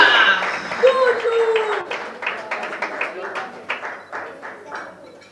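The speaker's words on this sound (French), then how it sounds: "Applaudissez encore une fois les plus." Audience applause at an evening awards ceremony in a salon, a dense wash of clapping that starts loud and thins out to scattered claps, with voices calling over it.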